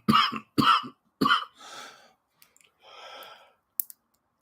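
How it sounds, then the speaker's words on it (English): A man with a lingering illness coughs three times in quick hoarse bursts, then gives a heavy breathy exhale and a raspy throat-clearing wheeze, with a few faint clicks, close and alone. "I'm still coughing and hacking up a damn lung"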